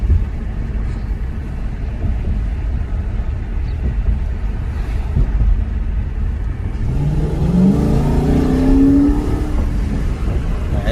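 An Infiniti M45 with a VK45DE engine and a newly replaced tensioner pulley is driven around, giving a steady, close engine rumble. Near the end it swells into a rising rev as the car accelerates.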